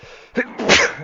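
One sharp sneeze up close, with a quick catch of breath before a forceful, noisy release.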